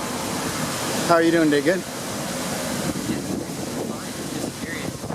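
Strong wind buffets the microphone beside an oil refinery in Kern County during a wind storm, a steady broadband roar that runs the whole time under nearby conversation.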